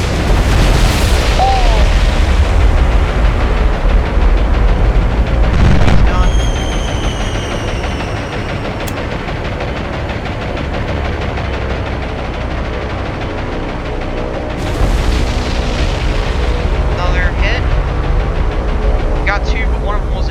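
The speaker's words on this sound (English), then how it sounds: "Watch those bombs." Bombs bursting against warships in the naval combat game War on the Sea, heavy rumbling booms with a loud blast early on and another surge later, amid continuous engine-like drone and game noise.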